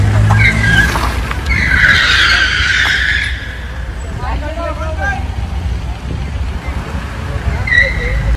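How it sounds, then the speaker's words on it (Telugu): Cars race on a city street at night, tires skidding loudly in a long screeching sweep over roaring engines, with voices mixed into the din. "ఫ్రీగా కారు రేసులు చూడొచ్చు"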